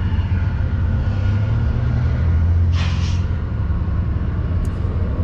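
A train passing outside a warehouse in Columbus, Ohio, heard as a steady low rumble that fills the whole stretch, with a brief hiss of air partway through.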